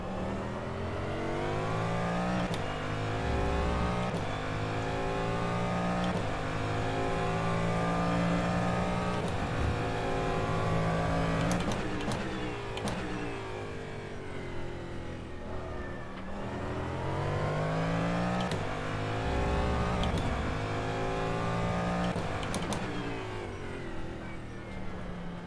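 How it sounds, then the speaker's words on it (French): Race car engine at the Daytona circuit in the sim racing game rFactor 2, a loud continuous roar rising and falling through gear changes and revs, with sharp upshift blips, sustained alone for the whole stretch. "Le bruit de la voiture"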